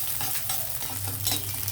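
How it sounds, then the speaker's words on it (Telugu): Chopped onions sizzle steadily in hot oil as the tempering for a traditional dal with sesame oil cake (Pappu Telagapindi), with garlic, cumin and mustard seeds alongside, while a spoon stirs and scrapes the pan up close, with no talking. "నేను ఉల్లిపాయలు కూడా వేస్తున్నాను"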